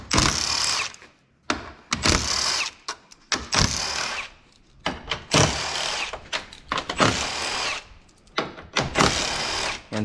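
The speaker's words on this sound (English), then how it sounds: "grab my favorite tool of all time, the Milwaukee M12 3/8 stub impact, and a 10mm socket right here" A Milwaukee M12 3/8-inch stub impact wrench with a 10mm socket removes six bolts from the top of a 2022 Ford F-350 King Ranch grille, giving loud repeated hammering bursts of about a second each separated by short pauses, with no talking.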